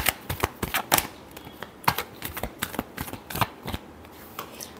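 Tarot cards being shuffled by hand in a sharp run of riffling snaps and flicks, close and fairly quiet, with no talking.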